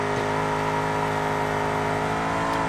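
BMW 5 Series in the BeamNG driving game, its engine held at high steady revs while the tyres spin, a dense continuous drone with layered harmonics and a faint screech across the whole stretch, no speech.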